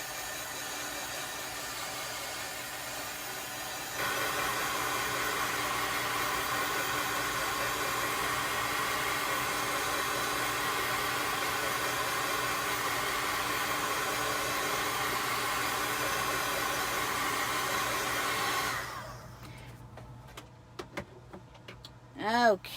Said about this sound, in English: Because the heat tool is very, very hot.